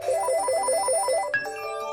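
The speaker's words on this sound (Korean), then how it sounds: "베어리로 페드로 선생님한테 전화해보자" A cartoon telephone rings with a bright, repeating electronic ringtone melody, steady and fairly loud, cycling several times before a brief clunk near the end as if the call is picked up.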